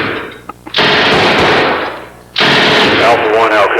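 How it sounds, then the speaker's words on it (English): Rapid gunfire in a video game, loud and dense in two long bursts separated by a brief lull, with a few lone shots at the start and raised voices mixed in. "He's still shooting."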